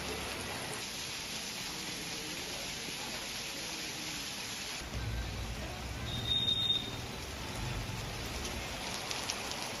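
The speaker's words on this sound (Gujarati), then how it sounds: "કાળા ડિબાંગ વાદળો વચ્ચે વરસાદ વરસી રહ્યો છે" Steady rain pours under dark clouds around Ambaji, Gujarat, a continuous even hiss of drops on surfaces that thickens slightly partway through and carries on unbroken.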